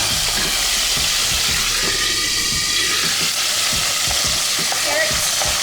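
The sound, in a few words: tomato added to frying garlic, sizzling and stirred in pan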